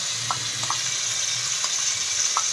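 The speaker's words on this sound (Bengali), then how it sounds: "আদা রসুন আর কাঁচা লঙ্কা পেস্ট দিয়ে দেওয়া হবে" A paste of ginger, garlic and green chili sizzles steadily in a hot frying pan, a continuous close hiss with a few soft stirring clicks.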